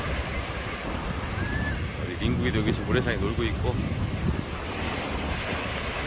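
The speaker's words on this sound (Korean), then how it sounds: "파도 오는 거 봐." Autumn ocean waves break and wash onto the sand at Guryongpo beach in Pohang, a steady close roar with wind buffeting the microphone, while someone talks over it.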